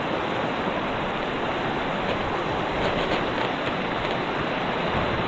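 A riverside river in high flow rushes in a loud, constant roar, a dense unbroken wash of flowing water.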